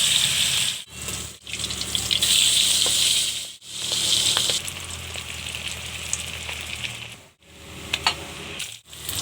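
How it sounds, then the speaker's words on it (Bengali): Fish coated in turmeric and salt fries in hot white oil, giving a loud, continuous sizzle and crackle close by that swells and dips in waves with brief quieter gaps. "তেলটা ভালো করে গরম হলে মাছটা ভালো করে ভেজে নেব।"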